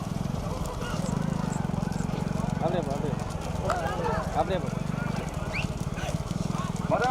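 Hooves of racing bulls pounding during a bullock cart race, a dense continuous rumble of hoofbeats and cart noise with a crowd and an announcer talking throughout.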